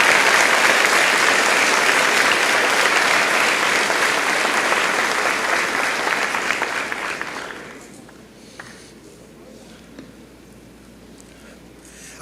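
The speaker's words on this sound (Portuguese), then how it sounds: "Você pode aplaudir Jesus por isso?" A large church audience applauds in a loud, continuous wash of clapping for about seven seconds, then it drops away to a quiet room with faint scattered sounds.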